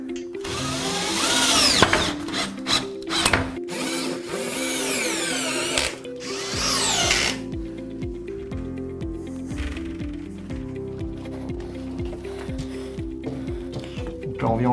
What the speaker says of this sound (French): on va mettre les petites cales sur les vis et on va venir visser le profilet.